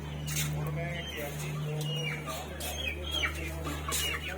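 A brooding hen sitting on eggs clucks softly and intermittently over a steady low farmyard hum, while a person talks nearby.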